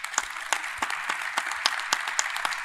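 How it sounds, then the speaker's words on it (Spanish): A conference audience at a regional forum in Iberoamerica applauds, a moderate, thin patter of claps with a few sharp individual hits standing out, fairly distant and with no speech over it. "el aplauso muy merecido"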